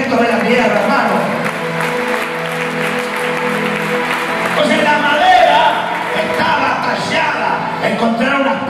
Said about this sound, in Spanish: Denle un fuerte aplauso al Dios, arquitecto de la tierra, hermano.